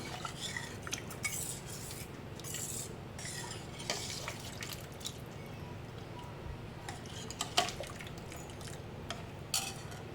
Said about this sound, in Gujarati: તો આપણે ખીરું બરાબર મિક્સ કરી લઈએ. એને આ રીતે એક જ દિશામાં ફેરવવાનું છે.